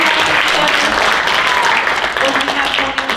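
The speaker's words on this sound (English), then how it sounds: "I just want you guys to give them a big round of applause." A youth church congregation claps loudly in sustained applause, a dense close wash of hands that tapers slightly near the end, with some voices mixed in.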